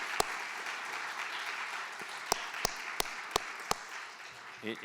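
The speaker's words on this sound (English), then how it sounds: "That's worth an applause." Applause from the audience at a city's annual address: a soft, steady wash of clapping with a few louder, sharper claps standing out near the microphone.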